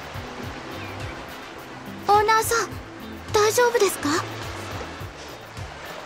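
Ocean waves in the video game DOAX VenusVacation wash steadily in the background, a continuous surf hiss under a voice speaking and a soft repeating musical pattern.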